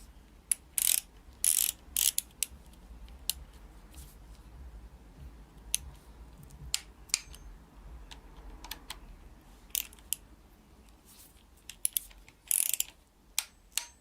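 Torque wrench ratcheting while tightening engine parts on a BMW E39 325, in sharp clicking bursts at irregular intervals, some grouped in quick pairs, over a quiet background.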